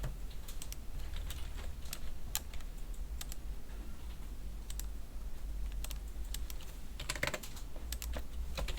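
Keys clatter on a computer keyboard for the X-and-Enter command in a CAD program. The irregular clicks and taps are close and crisp over a low hum, with no speech.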